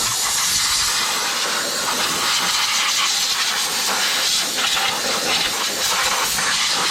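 A steady, loud hiss of compressed air blasts onto a carburetor on a 1970 Ford Torino, blowing off cleaner continuously for several seconds.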